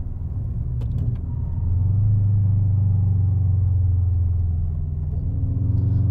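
Engine of a classic Subaru Impreza WRX while driving, a steady low rumble that swells and holds loud from the cabin, with no talk over it.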